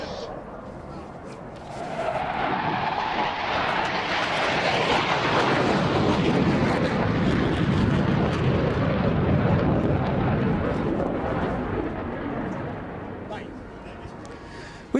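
An Italian Air Force Tornado IDS jet streaks past at high speed at the Cosford Air Show, a loud, broad roaring rush that swells within seconds, holds, then fades slowly as the jet moves away.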